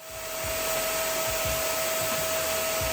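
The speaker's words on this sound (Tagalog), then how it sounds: "Habang ginagamit ko siya, ganito kaingay yung vacuum." A vacuum cleaner running steadily and loudly up close, a constant whooshing roar with a sustained motor whine throughout, no voices.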